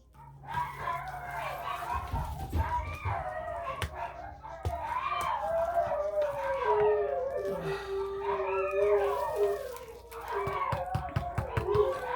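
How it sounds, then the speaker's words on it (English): Dogs howl together in long, wavering, overlapping cries that rise and fall continuously, fairly close, with a few sharp clicks underneath. "I apologize about my dogs."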